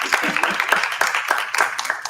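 An audience applauds after an evening talk at a Catholic gathering, with scattered, uneven clapping from a small group.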